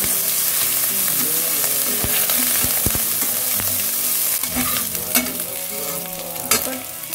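Spices and chilli frying in a pan give a loud, steady sizzle, with a spoon or spatula clacking and scraping as they are stirred.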